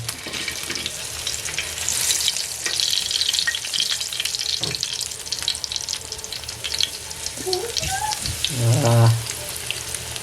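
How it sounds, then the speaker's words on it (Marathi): Kingfish (surmai) sizzles and crackles steadily in a hot pan up close, with a brief voice cutting in near the end. "बघ मच्छी फ्राय"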